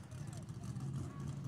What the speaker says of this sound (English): So, that's the sound of them running on methanol.